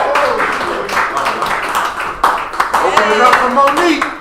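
An audience at an art event applauds comedian Jerry, with scattered clapping mixed with cheering and chatter from the crowd, close and fairly loud.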